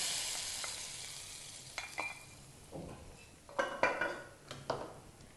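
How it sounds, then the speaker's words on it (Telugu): A spoon stirs a fried tempering with curry leaves into a pot of ash gourd curry, giving quiet scraping and soft sizzling broken by several sharp clinks against the pot. "కర్రీలో పోపు వేసిన తర్వాత పోపు బాగా కలిసేలాగా కలుపుకోవాలి"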